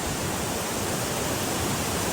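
Waterfall at Tatopani in Rukum East, a steady broadband rush of falling water, loud and continuous without a break, with no voices over it.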